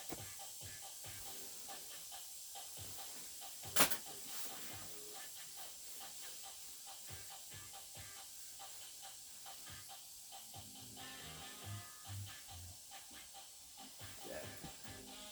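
Steam hisses as cold cream is warmed for coffee, a steady low hiss running through the clip with one sharp louder burst early on and faint clatter around it.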